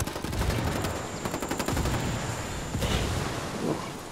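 Sustained rapid gunfire from a multiplayer shooter video game, dense bursts of automatic fire layered with a steady high electronic tone, loud and continuous throughout.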